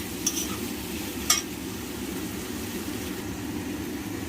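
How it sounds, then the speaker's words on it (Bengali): Onions fry in oil with a steady, even sizzle while being stirred, and two light clinks of a utensil against the pan sound early on. "পেঁয়াজটা ভাজা হচ্ছে"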